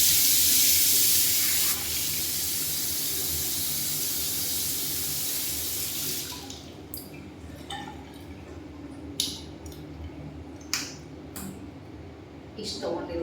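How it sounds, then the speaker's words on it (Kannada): Running water splashes loudly from a tap while a face is washed with Pond's charcoal face wash, then fades to softer rubbing, dripping and occasional splashes as someone talks. "ಫೇಸ್ ವಾಶ್ನ ಹಾಕಿ ತೊಳಿತೀನಿ."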